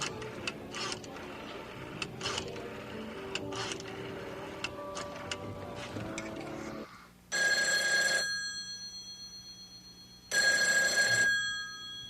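A telephone rings with two long, loud electronic bursts separated by a pause, following a stretch of quieter ticking and clattering room noise from a 1980 soap opera scene.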